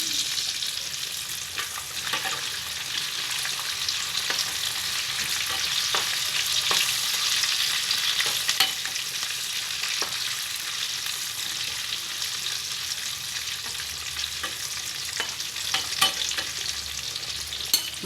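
Garlic tempering sizzles steadily in hot oil, stirred in a pan for a pumpkin, brinjal and sweet potato tamarind stew, with a dense, continuous frying hiss, scattered spoon scrapes and small pops throughout.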